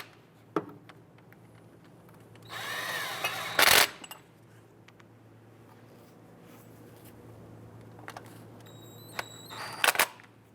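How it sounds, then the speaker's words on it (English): Close ratcheting and clicking as thermostat housing bolts on a 2005-2010 Chrysler 300 are torqued down, with a steady run of turning, a sharp loud snap, then a few faint ticks and another click near the end. "Let's get and torque down these two bolts to 112 inch-pounds."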